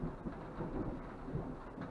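Distant thunder from a mountain storm rolls as a low, faint, continuous rumble for about two seconds, heard from inside a camper van with no voices.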